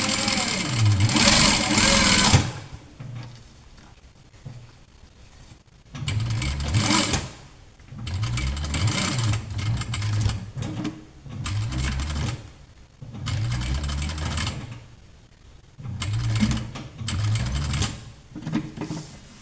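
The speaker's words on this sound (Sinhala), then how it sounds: "ඊළඟට අපි මේ අංශ දෙක මහ ගන්න ඕනේ." A sewing machine stitches two purse panels together in quick rapid bursts of mechanical whirring and needle clatter, starting and stopping repeatedly, close and fairly loud with brief pauses between runs.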